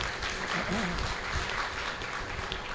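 Steady applause from an audience fills the whole stretch, a dense even patter of many hands clapping.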